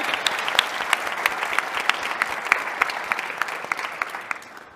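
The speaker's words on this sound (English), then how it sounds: "So can I have a big round of applause for them" An audience at an exhibition industry event in Hanover gives a round of applause, with sharp individual claps over a steady roar of clapping that fades slightly at the end.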